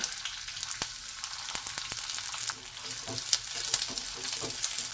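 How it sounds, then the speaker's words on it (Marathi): Thinly sliced onions fry in a ladleful of oil for spicy Khandesh-style shev bhaji, a continuous close sizzle broken by scraping and clinking stirring strokes. "कांदा आपल्याला गोल्डन ब्राऊन कलर होईपर्यंत भाजून घ्यायचा."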